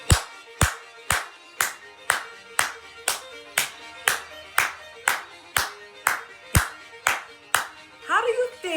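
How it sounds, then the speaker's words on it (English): Sharp hand claps land one after another at a steady, even beat, clapping along to Celtic music close to the microphone, with a brief rustle at the very end. "Can you clap with me?"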